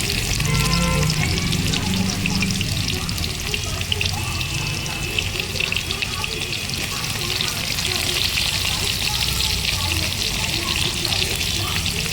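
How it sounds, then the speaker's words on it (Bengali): Chopped onions fry in oil for chicken bhuna, a dense, close sizzle with stirring and a watery hiss running steadily, without speech. "দিয়ে দেবো কেটে রাখা পেঁয়াজ"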